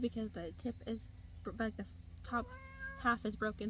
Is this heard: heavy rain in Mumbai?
no